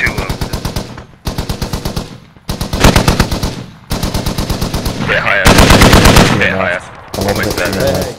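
.50 cal heavy machine gun firing in the video game Squad: loud, close, thumping bursts of automatic fire repeat about six times, separated by short pauses.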